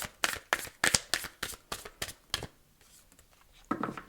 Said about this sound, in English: And the last shuffle.